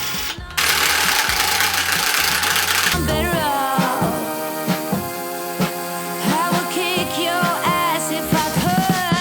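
Revolt TW 20/350 impact wrench driving a 200 mm screw in first speed, a loud rapid buzzing hammer rattle, preceded by a brief burst of broadband noise, with someone talking over it.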